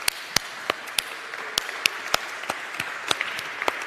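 Applause at a memorial celebration of life, a steady wash of clapping with sharp individual claps standing out close by, moderately loud and free of talk.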